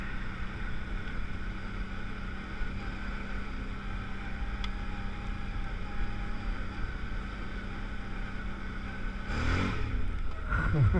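A 650 ATV engine drones steadily and loudly while riding a trail, a continuous close motor hum with a brief surge of revving near the end.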